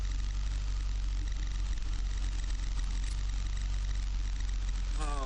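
A tractor in first gear hauling a 12-ton heavy super-disk on a mountain ridge-top hums with a steady, deep, close engine rumble, with a faint brief squeal near the end.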